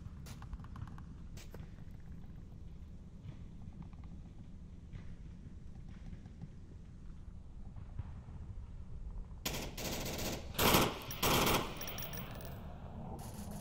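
Gunfire in the VR shooter Onward during a competitive team match, heard as a steady rattle of distant shots with a louder burst of close, sharp reports near the end.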